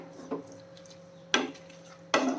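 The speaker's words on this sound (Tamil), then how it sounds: "இதில் வந்து கொஞ்சமாக கொத்தமல்லி தழையை சேர்த்துட்டு நம்ம கலையிடலாம்" Tomato chutney with coriander leaves is stirred in a pan after the flame is turned off. A spoon scrapes and knocks against the pan three times, sharp and close, over a faint steady hum.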